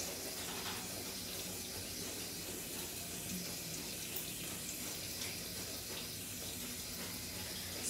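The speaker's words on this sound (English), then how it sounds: "using the surgical brush, scrub the top of your hands" Tap water runs steadily into a sink while hands are scrubbed with a surgical brush, a constant hissing rush with faint, barely separable brushing strokes, close and even throughout.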